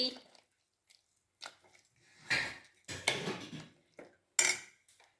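A utensil scrapes and knocks against a pan while amaranth spinach kootu is stirred, a few scattered clatters separated by quiet gaps, close and moderately loud.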